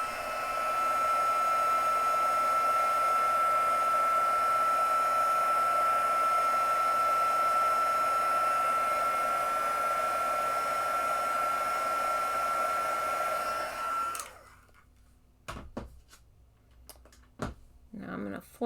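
Heat tool drying ink on a handmade balloon card, a steady loud whirring blast of hot air running continuously for about fourteen seconds, then cutting off to leave a few faint handling clicks and knocks.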